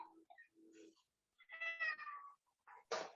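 A cat meows several times, with short chirping calls followed by a longer drawn-out meow and a sharper final cry, close by in a quiet room.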